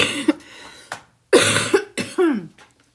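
A person with a lingering post-illness cough coughs several times in short separate bursts, close and loud, with brief gaps between them.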